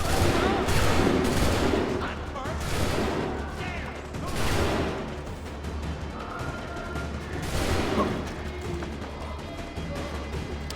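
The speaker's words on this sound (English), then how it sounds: "They could just stop shooting at me." Enemy gunfire in Assassin's Creed III: repeated volleys of musket-like shots and crashing impacts come in waves over a busy battle din, fairly loud and continuous, with someone talking at times underneath.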